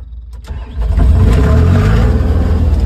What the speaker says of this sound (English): that's the diesel or the engine running.